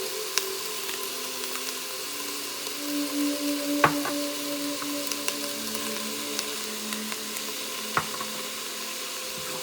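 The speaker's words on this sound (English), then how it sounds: "Now I will be adding the ginger garlic paste." Ginger garlic paste frying in an Instant Pot for matar paneer, a continuous close sizzle with occasional stirring and a couple of sharp utensil knocks against the pot.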